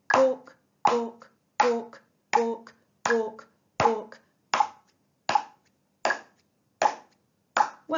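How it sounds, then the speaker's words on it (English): Hands clapping along to a steady pulse in a beginner brass lesson, about a dozen sharp, evenly spaced claps with silence between each, close and clear. "We're going to clap along with the pulse."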